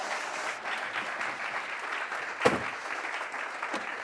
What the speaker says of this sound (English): Let's give them both a round of applause, everybody